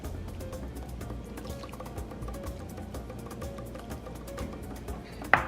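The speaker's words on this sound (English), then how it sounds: "Then I like to add some water." Water pours in a soft, continuous trickle into a marinade of white vinegar in a home kitchen, quiet and close, ending with a faint clink.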